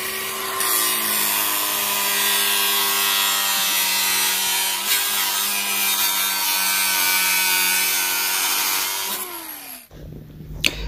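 An agricultural water pipe is cut with a power tool, a loud continuous grinding, buzzing whine held for several seconds before winding down and stopping abruptly near the end.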